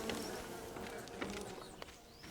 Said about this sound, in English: Oh, the bees! I forgot there was bees in this game.